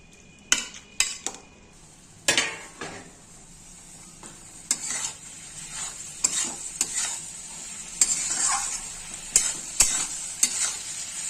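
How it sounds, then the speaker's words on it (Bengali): Potatoes frying with spices in oil for a fish-head and potato murighonto, a soft sizzle broken by repeated sharp scrapes and clinks of a spatula stirring against the pan, close and without talk. "আলুগুলো খুব সুন্দর করে মশলা ভাজা হয়ে গেছে তেল ছেড়ে দিয়েছে"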